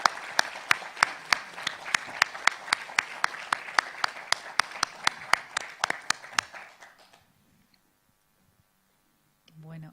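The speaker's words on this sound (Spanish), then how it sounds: "Un aplauso, por favor." Audience applause after a lecture in a conference series, a crowd clapping in a brisk, fairly regular rhythm for several seconds before fading out to quiet, followed by a brief voice.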